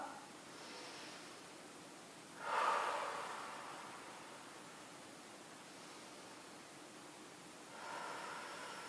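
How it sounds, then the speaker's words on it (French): Deep breathing at a slow pace, in through the nose and out through the mouth: a soft, close airy rush swells and fades, then another breath begins near the end, with no talking. "Inspirez profondément avec le nez et expirez longuement avec la bouche."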